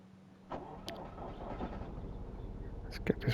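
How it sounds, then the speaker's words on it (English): A truck engine turning over and starting up in the video game Truck Driver: The American Dream on PS5, rising into a low, steady rumble after a soft click, with a few brief knocks near the end. "let's turn the engine on."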